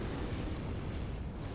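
A dragon breathes a sustained roaring blast of fire in Dark Souls, a loud, steady broadband whoosh filling the short moment without pause.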